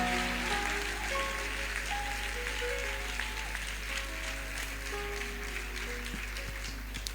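A church congregation applauds their parish priest, a dense, steady wash of clapping sustained throughout like rain on a roof, with faint tonal sounds lingering underneath.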